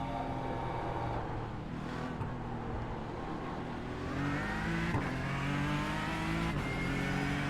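A Ford GTE race car circles Monza in a racing video game, its engine howling steadily and rising in pitch through the revs, with several sharp gear-shift breaks.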